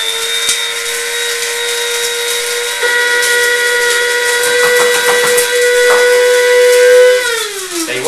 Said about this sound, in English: So my seeds and chai are grinding, and I'm just shaking my popcorn.